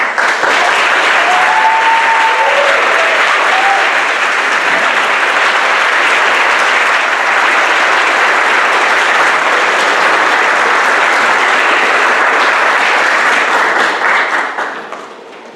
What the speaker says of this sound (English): I would like all members of the crowd to stand up to be recognized and receive a round of applause